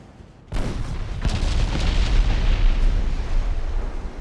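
Naval artillery salvo in the warship strategy game Ultimate Admiral Dreadnoughts with a Chinese Empire fleet: one sudden loud boom, then a long rumbling roar that sustains and slowly fades.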